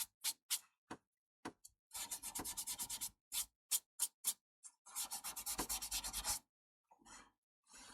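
Rhythmic hand sanding of a wooden candle holder on a lathe, firmly removing colour, short rasping bursts and longer runs of quick back-and-forth scrubbing, close and alone.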